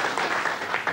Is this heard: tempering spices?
no